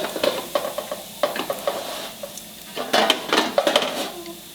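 Mustard and cumin seeds splutter in hot oil for a bitter gourd dish, sharp irregular pops and crackles bursting close up, with a clatter of a pan or utensil among them.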